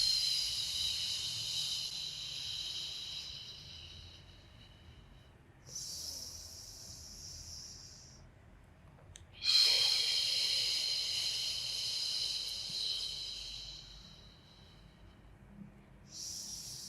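Forceful exhaled breaths during a beginner pre-Pilates workout, a few hissing puffs spaced several seconds apart, close and moderately loud over a quiet background.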